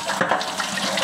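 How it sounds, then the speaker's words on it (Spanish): Water gushes from a tap at a home kitchen sink during handwashing, a continuous close, loud rushing splash lasting about a second with no talk. "Ahora sí voy a lavarme las manos."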